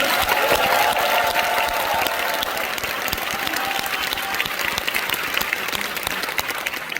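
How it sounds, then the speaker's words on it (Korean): A church congregation gathered for a Liberation Day anniversary worship service claps loudly in a sustained, dense round of applause that stays strong for several seconds before easing slightly. "감사와 영광의 박수를 올려주십시오"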